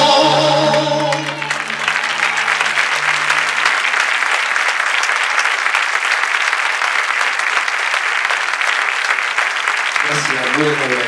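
A crowd applauds after a live Spanish-language song: the music's last notes fade into loud, dense clapping that carries on steadily, then a voice and music start again near the end.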